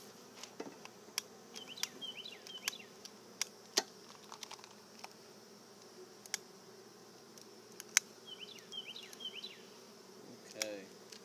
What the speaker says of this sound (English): The bees are getting a little rambunctious